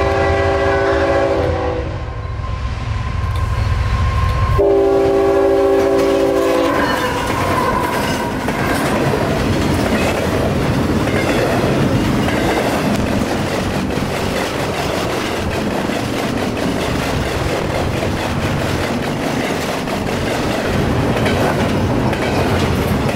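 A freight train of empty cars heads out of Uceda Yard toward Jacksonville at night, opening with loud blasts of the horn before the wagons roll past. Heavy rumbling and rattling clatter then continue steadily and close by.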